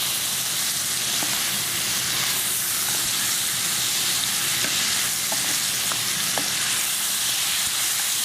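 Food sizzles and crackles steadily in a hot pan while cooking mulligatawny soup, a dense close hiss with occasional small pops and no talking.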